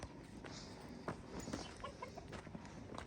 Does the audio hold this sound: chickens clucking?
yes